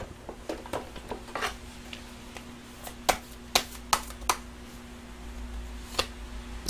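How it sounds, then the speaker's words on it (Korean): Tarot cards are shuffled and drawn, giving a scattered series of sharp, crisp card snaps and flicks over a faint steady electrical hum, close and quiet. "자, 여러분들 타로 카드 하나 뽑아볼게요"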